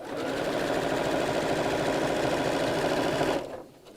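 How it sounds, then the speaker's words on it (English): A sewing machine stitches a woven fabric cushion cover in one continuous, loud, close whirring run of about three seconds, then stops abruptly. "So just as I'm sewing, I'm just making sure that that length of ribbon is out of the way."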